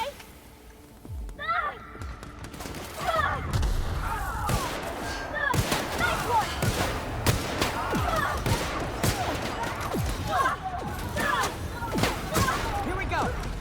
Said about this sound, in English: Who the heck keeps shooting us?